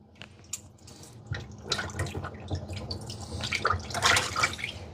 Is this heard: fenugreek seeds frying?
no